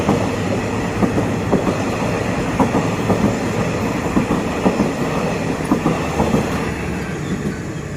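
Thaksinarath express train no. 32 running on rails near Ban Bang Li, Ratchaburi, heard close and loud as a steady rumble with a rhythmic clickety-clack of wheels over rail joints throughout.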